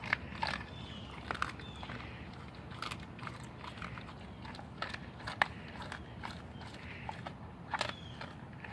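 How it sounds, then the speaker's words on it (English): A German shepherd puppy chews a raw breakfast that includes a turkey neck, giving wet, crunchy bites and cracking sounds in an irregular rhythm, close and fairly quiet. "Thank you for chewing that all the way."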